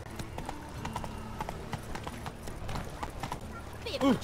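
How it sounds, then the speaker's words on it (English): Hooves of a galloping horse in The Witcher 3 video game drum in a steady clip-clop rhythm throughout, with game speech over it and a brief whinny near the end. "Run, Roach"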